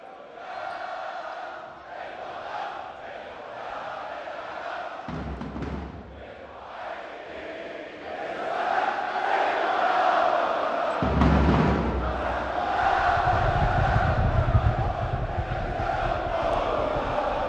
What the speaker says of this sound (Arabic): والبداية مثل العادة مع الجمهور اللبناني والنشيد الوطني